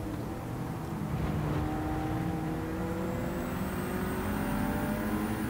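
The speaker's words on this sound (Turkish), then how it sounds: "Turbonun sesi de ne güzel geliyor, fısır fısır." A Ford Sierra Cosworth RS500 race car engine in Gran Turismo 7 at Atlanta drones steadily up close, with rising whine tones and a faint airy turbo hiss layered over the engine noise, and no talking.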